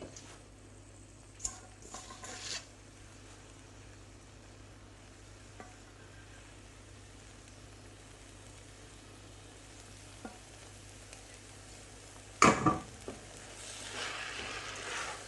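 Spinach curry cooking in a pan, a faint steady sizzle with occasional stirring clatter and a louder scrape near the end, low and close.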